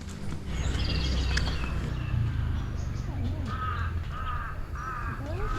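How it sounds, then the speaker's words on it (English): A large bird calls loudly from a hillside resort in Thailand, a series of sharp repeated cries in the second half over steady outdoor ambience, with a person speaking nearby. "Loud birdie."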